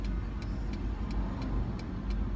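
Steady low rumble of road noise inside a moving car, loud and constant, with faint regular ticking like a turn signal.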